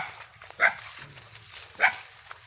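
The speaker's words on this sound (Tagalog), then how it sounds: "Daming aso, umuusig. Umuusig ang aso, ayan." Dogs bark twice, a second or so apart, moderately close along a rural path home from a farm, with quieter ambient noise in between.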